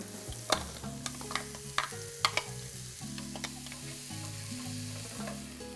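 Onion frying in a pan for taco filling gives a quiet, steady sizzle with a few sharp spoon taps and scrapes early on, then settles into a soft continuous crackle.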